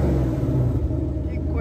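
A forged Ford Mustang engine drones in a loud, steady low rumble with a brief swell near the start, and voices are heard over it.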